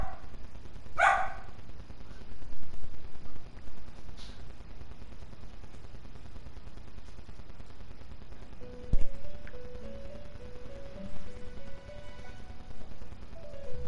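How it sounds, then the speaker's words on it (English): Pet dogs bark in a home in the background, a couple of sharp distant yaps early on and again around the middle, mostly faint under a low steady room hum and occasional thumps. "hence my dogs might bark."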